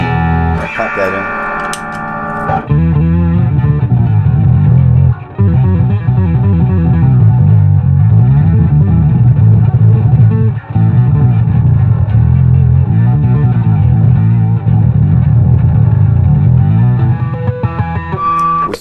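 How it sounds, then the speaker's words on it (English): Bass guitar run through an EBS Octabass and a Billy Sheehan signature drive pedal gives a thick, sustained, heavily distorted low tone with gritty high-end harmonics, playing continuously and loud with brief gaps between phrases. "Distortion in there that's adding that high-end harmonic content to it and making it really come to life"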